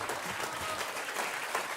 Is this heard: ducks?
no